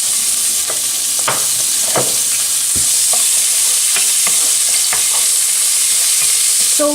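Onions fry in a pan for a vegetarian moussaka, with a loud, continuous sizzle and intermittent scrapes and clacks as a utensil stirs them, no voices over it.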